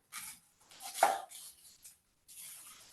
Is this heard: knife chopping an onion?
yes